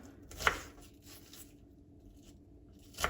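Two sharp chopping knocks of a knife cutting onions on a board, about two and a half seconds apart, in a quiet room.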